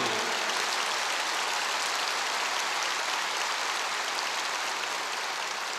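A large audience applauds steadily at a church teaching event, a dense, even crackle of many hands clapping that holds at a constant moderate level throughout, with no talk over it.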